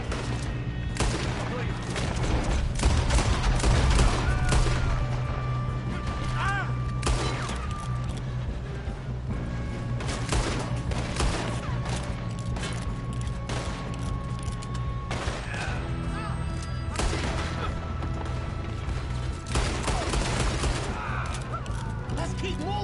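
Dense gunfire in a Red Dead shootout, rapid overlapping shots and bursts crackling nonstop over a rumbling background, with voices shouting beneath the battle.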